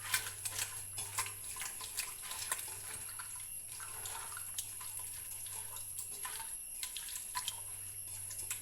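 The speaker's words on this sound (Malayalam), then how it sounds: "ഇതിലേക്ക് വെള്ളം ഒഴിച്ച് കൊടുക്കുക." Water pours into a cooking pot in a home kitchen, a soft, steady splashing stream with faint drips, quiet and alone.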